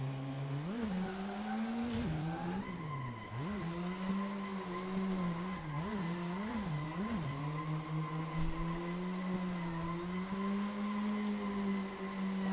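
A four-cylinder turbo car drifts in the racing game Assetto Corsa, its engine droning loudly as revs rise and fall, with tire squeal and skidding running continuously over the motor throughout, and no voices.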